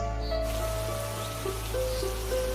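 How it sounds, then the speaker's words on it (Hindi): Cartoon rain begins falling in a forest as a steady hiss of drops, with a few tonal notes from a background music bed running alongside. "तभी बारिश होने लगती है।"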